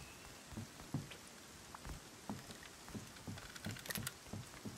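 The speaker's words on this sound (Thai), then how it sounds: "เริ่มฝนตกด้วยจะมีผลวะ" Rain falling in the survival game Rust, a faint soft patter of scattered drops with light tapping, quiet and steady throughout, with no voices.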